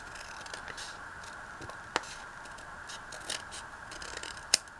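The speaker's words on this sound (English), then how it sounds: "And then I'm gonna cut it down." Scissors cutting through folded paper for an envelope, a few soft snips and crisp clicks up close, quiet and sparse with no talking.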